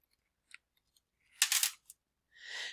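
A few light plastic taps on calculator keys, scattered and close, followed by a brief burst of rustling clicks and a softer hiss at the end.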